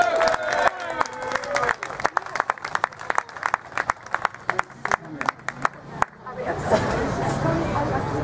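At an Irish water protest, a crowd bursts into applause and someone speaks over it; the applause ends in scattered claps, then murmuring and crowd noise follow.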